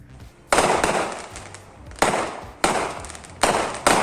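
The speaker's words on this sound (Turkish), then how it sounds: "karşı komşu saat 11'den sonra havai fişek atıyor kapısının önünde" Fireworks set off by a neighbor outside a house, several sharp loud bangs each followed by crackling decay, spaced a second or so apart, with no talking.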